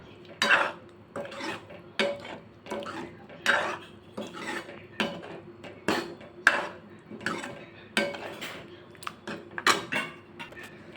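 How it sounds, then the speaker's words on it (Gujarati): A spoon scrapes and clanks against a pressure cooker pot as chickpeas are mixed into curry gravy, repeated metallic knocks and scrapes at an uneven rhythm, close and fairly quiet, with no talking. "હવે આપણે બધું જ મિક્સ કરી દઈશું।"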